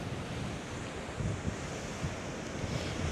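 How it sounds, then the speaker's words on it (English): Atlantic Ocean surf on the coast of County Kerry, Ireland, rolls in as a broad continuous wash, with wind buffeting the microphone and occasional louder surges. "That's Atlantic Ocean"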